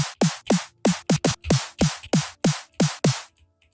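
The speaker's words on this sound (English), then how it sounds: "Then I also made a snare, which sounds like this." Synthesized snare hits from a Phase Plant software synth, about a dozen sharp noisy cracks with a pitched thump dropping beneath each, spaced fairly evenly with a quick double near the start, loud and close with no voices.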